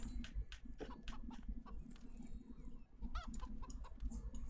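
Chickens in the video game Stonehearth cluck softly in short, scattered bursts over a quiet background, with a few sharper bird-like calls near the end.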